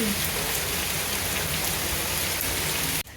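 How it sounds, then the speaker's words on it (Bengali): Heavy rain in Kolkata pours down in a dense, steady hiss, loud and close, cutting off abruptly at the very end. "বাইরে মুসুল ধরে বৃষ্টি হচ্ছে"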